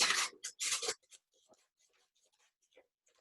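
A few quick crisp snips cut through something thin, then light rustling and scattered small taps follow, close by with no talking.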